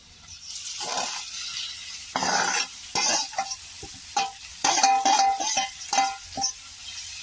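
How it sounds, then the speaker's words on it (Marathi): Cluster beans are stir-fried in oil with turmeric for a Marathi gavar thecha, giving bursts of sizzling and repeated spatula scrapes against the pan at close range, and nobody speaks. "चांगला मिक्स करून घ्यायचंय तेलामध्ये"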